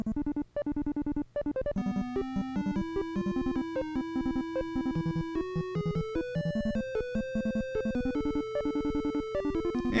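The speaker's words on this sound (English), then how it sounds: "It's the same background music for the entire fucking game." Chiptune-style background music from the video game Wurm: Journey to the Center of the Earth, with a bright, plucky, steadily stepping melody over a repeating bass line, playing continuously without any voices.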